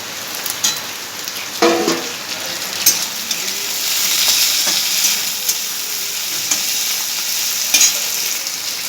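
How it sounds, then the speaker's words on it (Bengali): Onions fried until browned, with green chillies and tomato added and stirred in a pan, giving a steady close sizzle with scraping stir strokes and brief clatters, no talk. "পেঁয়াজটা ভাজা ভাজা করে নিয়েছি এরপর দিয়ে দিচ্ছি কাঁচা লঙ্কা আর টমেটো"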